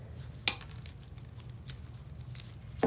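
Scissors snip through deco mesh for a wreath, with a crisp cut followed by faint rustling and a few soft snips, close and quiet.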